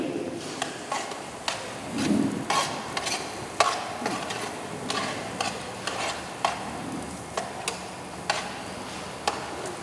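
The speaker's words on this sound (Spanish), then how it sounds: "directamente el maíz, lo vamos a sofreír" Corn kernels sautéing in a pan, a low continuous sizzle broken by regular ticking taps and scrapes of a spoon stirring against the pan, close and moderate in level, without talk.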